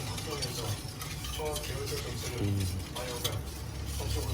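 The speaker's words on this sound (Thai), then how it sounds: "ค่อยๆ คนไปเรื่อยๆ นะครับ" A spoon stirs Milo pudding mixture in a pot: soft, steady scraping and swishing that stays quiet and continuous while someone talks over it.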